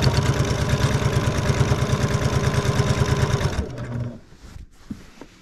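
A sewing machine quilting stitches through a quilt runs with a rapid, even mechanical rhythm, loud and close, then stops abruptly, leaving a few faint clicks and handling noises.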